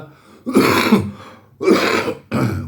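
Three harsh, forceful coughs, like someone clearing a raw throat, come close up with short pauses between them.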